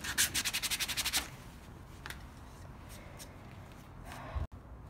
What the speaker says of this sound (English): you can sand this stuff